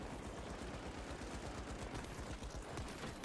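Rapid gunfire from a close-combat gun in the video game The Finals, a dense run of quick repeated shots at steady rhythm, loud and close throughout with no talk.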